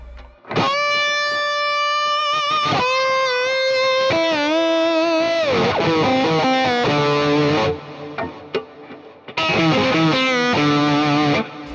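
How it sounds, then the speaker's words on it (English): A lap steel guitar in open D played on the bridge pickup with the tone rolled back, sliding sustained notes and chords with warm distortion, loud and close, with a brief quieter break before the playing resumes. "I would go bridge pickup and roll the tone back a little bit, rather than be neck pickup full tilt"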